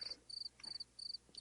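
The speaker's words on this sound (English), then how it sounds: "Crickets." A cricket chirping sound effect plays alone, short bursts of high, rapid trilling repeating in a steady rhythm with brief gaps between them.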